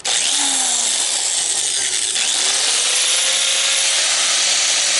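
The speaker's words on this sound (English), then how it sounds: "Runs the grinder with ease." An angle grinder powered through a 1000-watt inverter whines steadily and loudly at close range for the whole stretch, with a high, hissing spin that never lets up.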